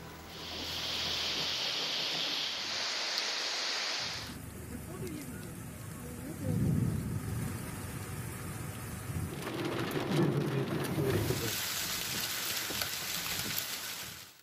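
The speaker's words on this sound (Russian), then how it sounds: "В Євпаторії пройшов град з шквальним вітром." Hail and rain driven by squally wind pound down in Yevpatoria, Crimea, a dense steady hiss with rumbling gusts, while a voice talks over part of the storm.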